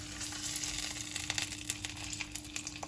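Ham hock popping in a hot pan on medium-high heat, a continuous close sizzle scattered with small crackling pops and a steady hum underneath.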